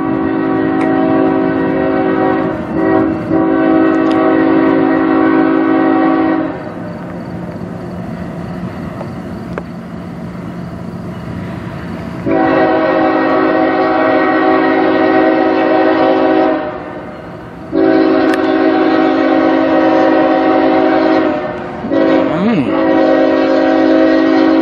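CSX freight train at a level crossing at night, its horn blaring in long sustained blasts with short gaps while the train rumbles past close by and loud.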